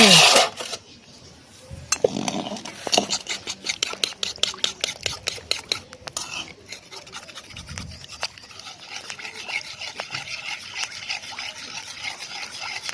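A spoon clinks and scrapes repeatedly against a bowl as powdered milk is stirred into cold liquid milk, giving a rapid rhythmic tapping that loosens into irregular scraping and knocks.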